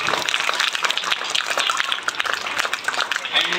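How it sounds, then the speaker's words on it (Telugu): Continuous applause from an audience at a school annual day, steady dense clapping for the teachers with a crowd murmur underneath, sustained throughout. "వాళ్ళకి డాన్స్ నేర్పించిన వారిని కొన్ని పర్ఫార్మెన్సెస్ నేర్పించిన టీచర్స్ అందరికీ ఒక్కసారి గట్టిగా చప్పట్లు"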